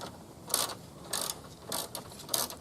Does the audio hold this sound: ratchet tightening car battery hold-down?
yes